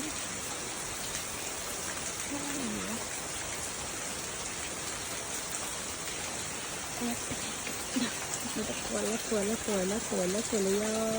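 Water spilling from a spring during rain makes a steady, dense hiss that runs unbroken throughout, fairly close, while someone talks over it in the later part.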